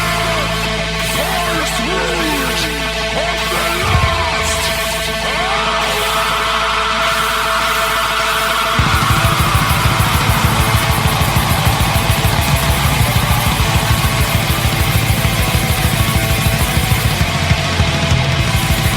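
A black metal track plays loud and dense: an ominous opening section with swirling sounds, then a full band crash of fast drums, distorted guitars and harsh roar.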